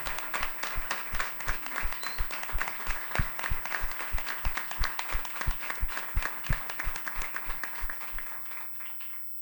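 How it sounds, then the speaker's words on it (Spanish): An audience at a book presentation applauds in a steady, rhythmic unison, each beat landing with a firm thump, keeping an even pace for about nine seconds before trailing off. "aplauso honorífico"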